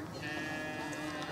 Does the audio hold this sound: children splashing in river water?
no